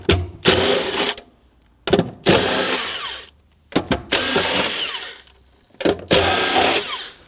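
A power tool loosens and removes 10mm nuts on the fuel pump cover of a 2001-2009 Volvo S60 2.5L, in several loud, close bursts of whirring with short silent gaps between them.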